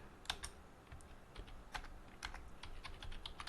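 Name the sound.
typing on a computer keyboard, writing a stored procedure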